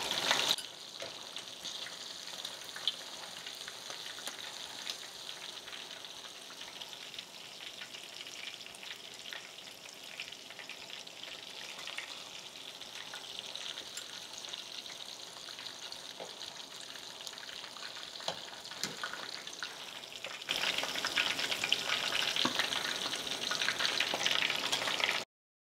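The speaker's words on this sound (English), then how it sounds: "Fish perfectly fried, coming out of the oil." Fish deep-frying in hot oil for kwenkwen at a street food stall in Kumasi, a steady dense sizzle and crackle that carries on throughout and swells louder toward the end, with no talk.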